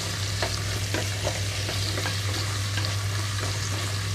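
Chopped vegetables and tomato pieces sizzle steadily in a hot pan, a constant bright frying hiss with a few soft stirring knocks throughout, no voices.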